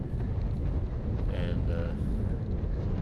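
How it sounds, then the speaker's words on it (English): Strong wind buffets the microphone on a hilltop plateau during a road bike race, a constant low roaring rumble throughout with a faint murmur of voices partway through. "It was really windy up here."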